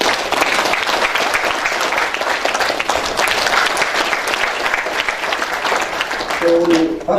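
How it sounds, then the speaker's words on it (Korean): A large crowd applauds continuously at a Korean brand awards ceremony, loud and sustained, with a brief tonal sound and a murmur of voice near the end as the clapping carries on. "박수 한번"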